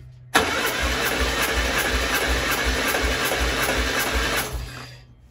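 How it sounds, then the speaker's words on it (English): A tuned Morris 1000 engine cranks over on the starter during a compression test, a loud, steady rhythmic churning that starts abruptly, runs about four seconds and then winds down. "Most of the literature says you should turn the engine over for 10 seconds."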